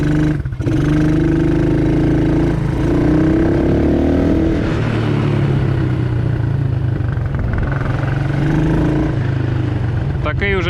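A Forte Orix Hunter Scrambler kids' quad bike drives in forward gear, its small engine droning steadily close by and rising in revs as it pulls away, loud throughout the clip.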